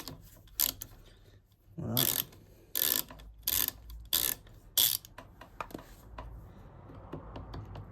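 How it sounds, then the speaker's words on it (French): Ratchet wrench with a 5 mm socket being worked on a scooter during an ignition repair, giving several short bursts of rapid clicking with pauses between them, up close, and a brief spoken word near the end. "Là c'est un cliquet de 5."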